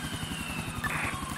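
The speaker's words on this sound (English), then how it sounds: "So the reason that I was never doing these helicopter patrols is the fact that I cannot fly a helicopter to save myself" A police EC145 helicopter in a video game, its engine and rotor droning as a steady pulsing hum close by, with a brief higher whine partway through.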